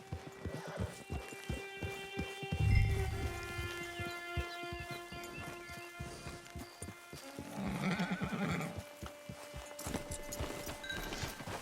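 Horses whinny twice, loud and close, over steady clip-clopping hooves that go on throughout.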